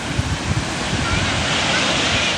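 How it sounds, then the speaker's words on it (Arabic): Steady, broad roar of sea surf washing onto a sandy beach in Egypt, continuous and close with some wind noise buffeting the microphone, no distinct voices over it. "ده كده في البحر أهو"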